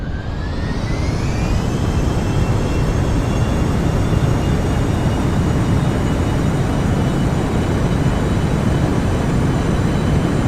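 Spaceplane jet engines at full thrust in Kerbal Space Program, a loud continuous roaring rumble with a faint high whine that rises slightly at the start and then holds steady throughout.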